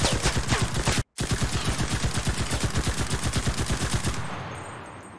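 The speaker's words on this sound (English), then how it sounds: "The German 9mm machine pistol called the Schmeisser" A German 9mm Schmeisser machine pistol fires long rapid bursts at close range, a steady chatter of shots broken by one brief pause, then ending abruptly; no voices.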